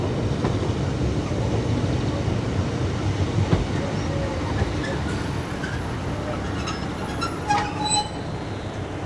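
A train runs along the rails on a scenic line near the Llyn Peninsula in North Wales, giving a steady, loud rolling rumble throughout, with thin metallic wheel squeals rising toward the end.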